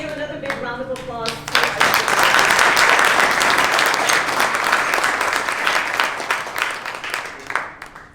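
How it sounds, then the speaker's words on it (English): An audience at a program on U.S.–Iran relations breaks into a loud round of applause after a brief spoken line, with sustained clapping that swells and then slowly thins out. "Please give another big round of applause."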